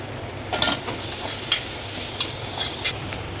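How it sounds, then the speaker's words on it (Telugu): Flattened rice (atukulu) frying in ghee in a pan, a steady low sizzle with a few light scraping and stirring clicks, close and moderately loud, no voices. "ఇది వేసుకొని వేయించుకోవాలన్నమాట అటుకులు."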